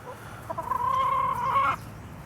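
Six backyard hens around their water in a coop and run, one bird letting out a drawn-out, throaty cluck-call for about a second, close to the microphone over a quiet outdoor background.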